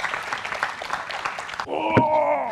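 Applause from an audience at a staged presidential and vice-presidential candidate debate, a steady patter of many hands for about a second and a half before it cuts off and a voice takes over.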